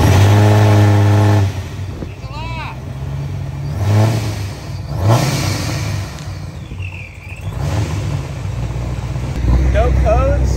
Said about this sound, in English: We're going to see if it starts.